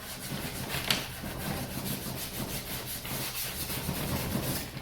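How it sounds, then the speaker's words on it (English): A hand rubs cold wax varnish into the edges of a cold wax and oil painting mounted on a panel. Steady, close swishing friction continues in a soft rhythmic pattern. "you can kind of just work it in with your hand too"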